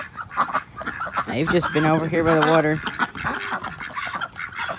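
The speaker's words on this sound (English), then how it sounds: "I knew these ducks were gonna be loud if I started talking." Ducks in a brooder pen quack loudly in a rapid burst, close and harsh, while a person talks over them.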